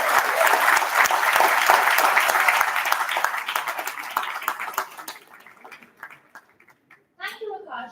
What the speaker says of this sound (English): let's begin Privitti 2025 with a huge round of applause